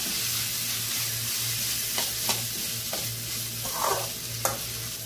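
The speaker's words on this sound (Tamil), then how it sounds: "இப்போ வந்து தேங்காய் போட்டுக்கலாம் ஒரு ரெண்டு நிமிஷம் மட்டும் வணங்கினா போதும்" Grated coconut frying in a pan for a Tamil fish kuzhambu, a steady moderate sizzle with a low pulsing hum underneath and a few sharp spoon scrapes at irregular intervals, with no voices.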